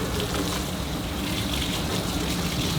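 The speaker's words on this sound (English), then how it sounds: "I'm trying to wash all this old grease and stuff out of here" Water gushing steadily while rinsing old grease out of the inside of a 1963 Amphibious Penguin car body, a continuous close, even wash with no talking.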